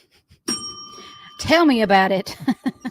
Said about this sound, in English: If you are new to the show and you hear the bell, that's mine.